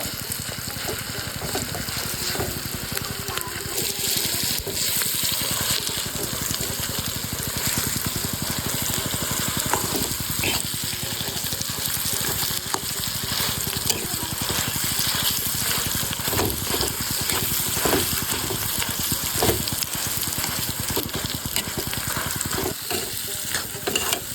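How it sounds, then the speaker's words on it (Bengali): Mashed potato stirred in a frying pan, a continuous close sizzle overlaid with frequent scraping and clacking strokes of a utensil throughout. "এবার ভর্তা করে আলু দিয়ে দেব। এবার সুন্দর মতো নেড়ে নিব।"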